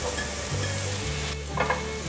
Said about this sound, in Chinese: 快速的拌炒